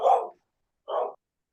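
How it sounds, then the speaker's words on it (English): Two separate barks from a dog, each short and fairly loud, spaced about a second apart with silence between them. "I hear dogs barking."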